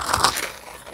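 A single crisp bite into animal crackers gives a quick, close, dry crunch that fades within a second.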